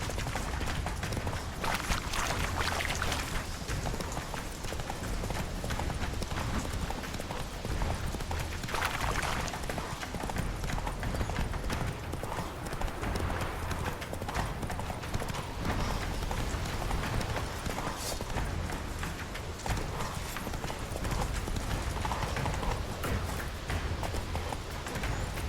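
Rapid hoofbeats of a galloping horse in The Witcher 3: Wild Hunt pound steadily and loudly throughout, with a dense, busy background that stays constant.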